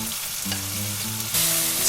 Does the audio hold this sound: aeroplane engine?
no